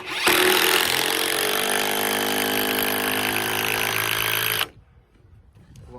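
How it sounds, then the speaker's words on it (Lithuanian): A power tool drives screws crosswise through a wooden block into a roof rafter, a loud close sustained whine with a steady pitch lasting several seconds, then cutting off into quiet room sound. "Tvirtinu jį dviejais arba trejais varžtais į saramą skersai."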